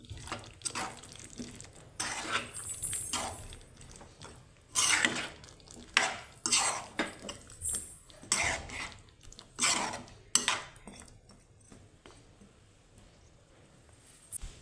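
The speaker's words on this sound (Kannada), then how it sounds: "ಬದನೆಕಾಯಿ ಹಾಕ್ಕೊಂಡ್ಬಿಟ್ಟು ಚೆನ್ನಾಗಿ ಮಿಕ್ಸ್ ಮಾಡ್ಕೋಬೇಕು." Brinjal pieces being stirred in a pan for a brinjal and peas gravy, giving irregular scraping and clinking bursts of a spoon against the pan, fairly close, with quiet pauses between strokes.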